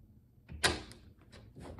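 A newly installed Novatech 2021 series sliding glass door slides open with a sharp clack and rattle, then faint outside noise drifts in.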